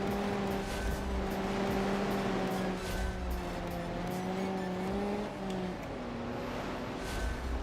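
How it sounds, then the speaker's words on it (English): Race car engines drone and rev continuously in a BeamMP banger race with resets, several cars closing in from behind with steady rising and falling engine tones and occasional tire squeal, loud throughout with no talking. "I hear the cars coming up behind me."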